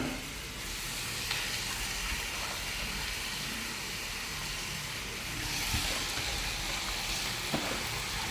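Leafy green amaranth leaves hitting a hot pan while cooking with moong dal, giving a steady, even sizzle and hiss that holds throughout at moderate loudness.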